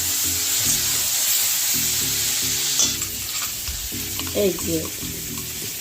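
Fish for a cumin fish curry is stirred in a hot pan, with steady sizzling and scraping while a person speaks briefly over the frying.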